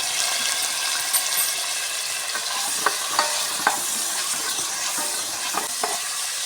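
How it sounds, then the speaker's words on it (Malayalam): About half a kilo of small onions sautéing in oil in a pan, a constant close sizzle broken by repeated light scraping stirs, steady and moderately loud, with no voices. "ചെറിയ ഉള്ളി ചെറിയ ഉള്ളി ഒരു അര കെ ജി നന്നായി വഴറ്റുക"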